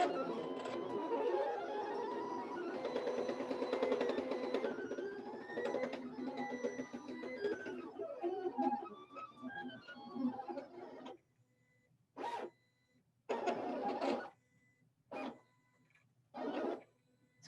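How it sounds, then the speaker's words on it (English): A cutting machine works through material for a stuffed polar bear craft, whirring and buzzing steadily for about eleven seconds, then stopping and starting in several short, separate bursts. "It's fun watching machine cut."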